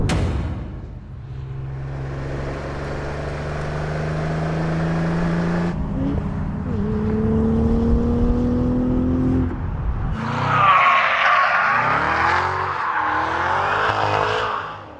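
A 2022 Cadillac CT4-V Blackwing's powerful engine roars and revs continuously, shifting pitch through gears, with tire squeal and a whine as the car speeds around the VIR South race course.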